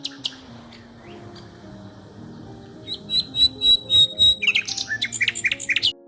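Common nightingale singing: after a quiet start with faint background, a sustained clear whistled note is followed by a burst of sharp, rapid chirps and trills, close and moderately loud.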